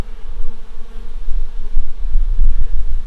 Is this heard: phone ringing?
no